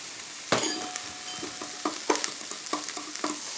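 Bell pepper fries in olive oil in a pan, a steady close hiss broken by scraping stirs and soft knocks of a utensil at irregular intervals, with no talk.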